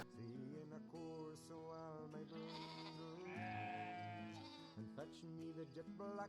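Several sheep bleat in a field, with overlapping wavering calls that come one after another at close to moderate distance, some loud and drawn out and others shorter.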